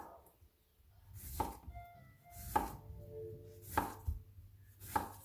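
A knife chopping the peel off an orange, four evenly spaced, muted cutting thunks about a second apart, close and quiet.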